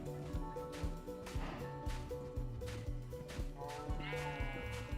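Sheep in the Minecraft video game bleat repeatedly in a quick, overlapping series of wavering cries, with music-like tonal game sounds running beneath, fairly close and clear.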